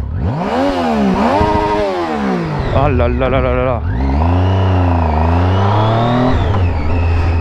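A new motorcycle, ridden for the A licence on a wet road, revs hard several times, the engine loud and close with rising and falling pitch, while a voice exclaims over it.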